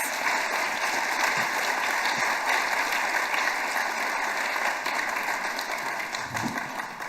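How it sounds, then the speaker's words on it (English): An evening audience at a City Council candidate forum gives a steady round of applause, a dense wash of clapping that continues evenly for about seven seconds with no speech. "Please give a round of applause to these 4 citizens"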